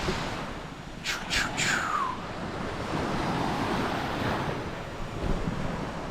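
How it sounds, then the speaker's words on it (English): Ocean waves break and wash ashore at a beach on Koh Samui, Thailand, as a continuous roaring surf with swelling surges and wind buffeting the microphone. A few brief high chirps are heard early on. "I'm about to take you right here into this ocean"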